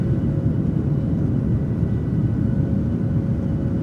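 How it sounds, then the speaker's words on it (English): Steady, loud Boeing 737 jet engine drone in a flight simulator game, a deep rumbling roar with a faint high whine, constant throughout with no voices. "Yes, those engine sounds. Beautiful."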